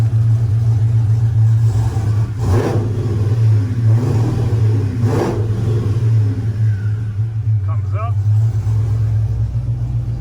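A rebuilt 6.0 engine in a Camaro idles with a loud, steady low rumble, swelling twice in short throttle blips before settling back to idle, close by.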